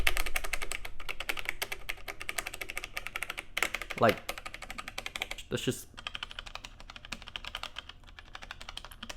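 Buttons on an Elektron Digitakt drum machine are pressed in a fast, steady stream of crisp plastic clacks, close and fairly quiet, with a voice talking briefly over them.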